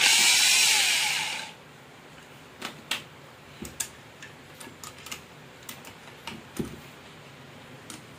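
A small electric drill whines loudly for about a second and a half, then winds down, followed by scattered light ticks and taps of the tool and workpiece.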